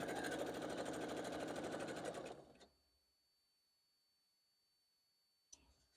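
A sewing machine runs at a fast, steady stitching rhythm while quilting a Bobbins and Blooms quilt, loud and close, then stops abruptly and leaves near silence apart from a brief click at the end.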